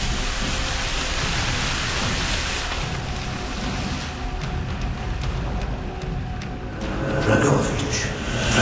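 Rain in Call of Duty: Black Ops, a continuous soft hiss of falling water beneath occasional clicks and brief bursts of game noise, steady throughout.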